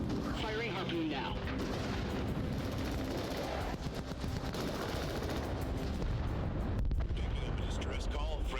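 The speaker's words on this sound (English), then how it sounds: "Firing harpoon now." Combat in the video game Crossfire: Legion, with a harpoon firing amid continuous heavy booming gunfire and explosions, loud and dense throughout.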